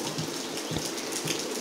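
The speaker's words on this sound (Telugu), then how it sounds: "కానీ ఇప్పుడు వర్షం వచ్చింది" Steady rain falls during an unseasonal downpour over a home garden with mango trees, a continuous close hiss with soft patters and no talk.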